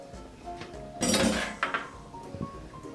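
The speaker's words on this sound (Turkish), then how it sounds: "Şöyle çatalımla biraz karıştırıyorum." A fork mixing in a bowl in a kitchen, a brief flurry of clinking and scraping that peaks loudly, then a few lighter taps and knocks trailing off, alone.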